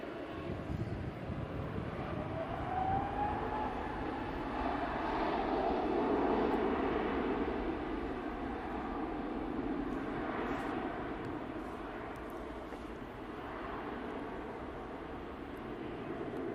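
At Manchester Airport, an Aer Lingus airliner bound for Orlando taxis out, its engines a faint, distant, steady hum mixed with light wind.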